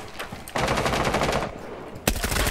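Automatic gunfire in a Rainbow Six Siege match, with a few scattered shots followed by a long rapid burst that breaks off, then another sharp burst, close and loud.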